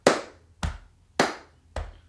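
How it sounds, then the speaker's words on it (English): Body percussion during a rhythm lesson: four crisp, evenly spaced hits alternating a sharp hand clap with a duller chest pat, close and loud with silence between each. "So it's clap and a chest. Clap, chest, clap, chest."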